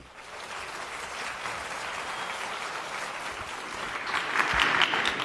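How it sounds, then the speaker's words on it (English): A crowd applauds steadily for several seconds, the clapping swelling louder toward the end, with no talking over it. "Give them a round of applause."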